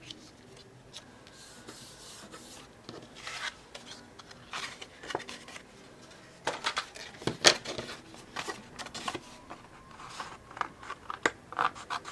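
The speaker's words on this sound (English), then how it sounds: "I'm going to actually cut it at a diagonal" Scissors or a blade cut through material at a diagonal, producing quiet, intermittent snips and scratchy rubbing strokes that grow more frequent toward the end, heard close up and alone.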